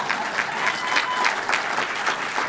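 Dense, steady applause from an audience at a veteran appreciation dinner fills the whole stretch, many hands clapping at once at an even, close level.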